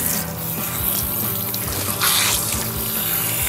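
A salon tap runs steadily while hair is being shampooed, a constant close rush of water splashing, with no talking.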